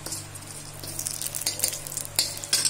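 Bay leaf sizzling in hot oil for dum aloo, a steady low crackle with clinks of a metal spoon against the pan rising over it now and then.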